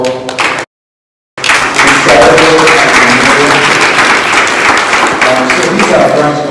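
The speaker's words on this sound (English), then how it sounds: "Can we clap" A conference audience applauds loudly and densely, with the clapping cut by a brief silent gap before it resumes at full strength. Voices surface faintly beneath it.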